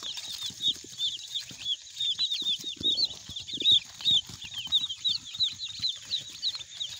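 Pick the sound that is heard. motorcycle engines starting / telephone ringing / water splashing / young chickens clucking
young chickens clucking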